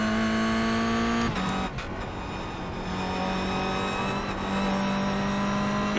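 A Toyota GR86 engine in iRacing drops through gears on a road course, the steady high engine tone stepping down abruptly with quick blips into a lower drone, loud and close.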